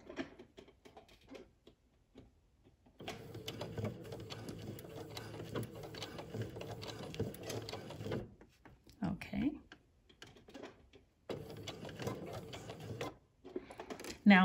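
A domestic sewing machine stitches slowly through fabric for a beginner's dress pattern, a steady mechanical whir running several seconds with short pauses and restarts, fairly close and moderately loud, with occasional brief voice sounds between runs.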